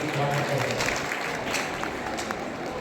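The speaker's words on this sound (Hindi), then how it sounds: "इन सब के लिए जोरदार ताली बजाकर" An audience applauds at a tourism quiz event, with steady clapping heard throughout.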